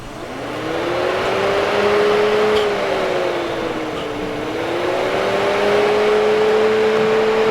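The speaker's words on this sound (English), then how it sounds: "I'm ready to turn the key and see if the fan comes on." A car's engine runs with its air-conditioning blower fan going, a loud steady whir and hum whose pitch slides gently up and down as the fan and engine speed shift, close by and continuous with no talking.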